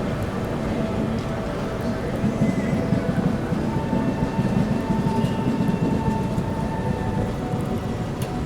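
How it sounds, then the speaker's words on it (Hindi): Bangalore Rajdhani express train (12621 Tamil Nadu Superfast Express) departing, heard as a steady, loud rolling rumble with continuous wheel and carriage noise, close and unbroken throughout. "चलिए दोस्तों निकल चुकी अपनी ट्रेन।"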